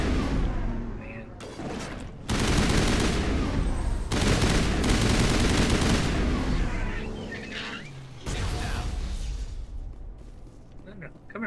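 Heavy gunfire in Mass Effect Legendary Edition, with dense, loud sustained bursts that cut in and out abruptly, layered with booming impacts and game sounds throughout.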